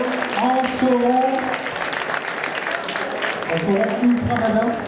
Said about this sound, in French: Applaudissements, s'il vous plaît, pour Kelko, en Sauron